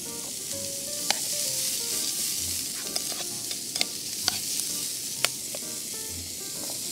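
Bacon sizzles steadily in a pan with softened onions and celery while camp cooking a clam chowder, with occasional sharp clicks and scrapes from stirring and no voices.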